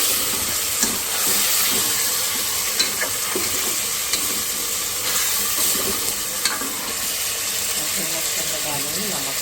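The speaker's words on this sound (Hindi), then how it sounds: "लहसुन अदरक का पेस्ट इसके साथ में इसको भूनूँगी" Garlic-ginger paste fries in a pan for a mash daal gosht, a lentil and meat dish, giving a dense, steady sizzle broken by soft scrapes and taps of stirring.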